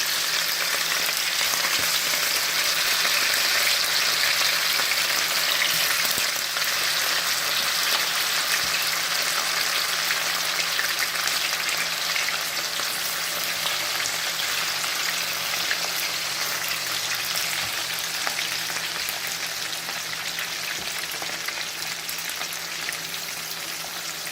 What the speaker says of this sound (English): you let the oxtail fry for about a minute